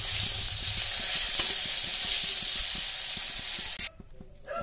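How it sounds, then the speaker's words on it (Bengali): Potato pieces frying in a pan, a loud steady sizzle with light stirring ticks that stops abruptly near the end and leaves a faint hiss. "আলুটাকে ভেজে নিচ্ছি"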